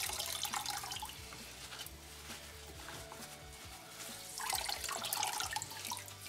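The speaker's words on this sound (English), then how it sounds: "we can actually give a good squeeze. We can get most of the juice out." Dandelion juice is squeezed out of a mashing and sparging bag, making a soft, wet trickling and splashing that swells and eases in irregular pulses, quiet and close, with no voices.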